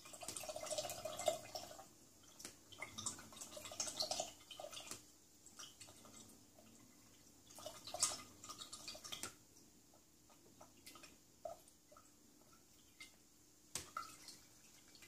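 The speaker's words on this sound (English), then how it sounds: "These kinds of splashing sounds remind me of my childhood." Soft, intermittent water splashes and drips, gentle and close, with irregular bursts of sloshing and no voices.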